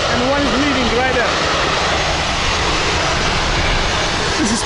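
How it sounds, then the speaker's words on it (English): Roaring engine noise of a Ryanair airliner landing and another taking off at an airport in Malta, a loud, steady, broadband rumble filling the whole clip with faint wind and a voice briefly heard beneath it. "Ryanair plane just landed. So one just landed."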